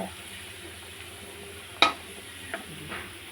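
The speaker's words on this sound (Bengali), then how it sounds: "তো দেখো ডিমটা দিয়ে দিয়েছি, দুটো ডিম দিয়ে দিয়েছি আলুর মধ্যে।" Eggs cooking in a pan with fried potatoes, onion and green chilli give a steady low sizzle, broken by one sharp clatter and a couple of softer knocks, with no talk.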